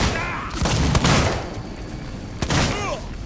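Gunfire striking a heavily body-armored enemy in Alien: Isolation, with several sharp shots: a cluster near the start and another burst around two and a half seconds, over a dense, rumbling game backdrop.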